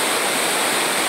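Water pours over the overflowing Acaraú Mirim dam in the sertão of Massapê, Ceará, making a loud, dense, unbroken rushing roar close by.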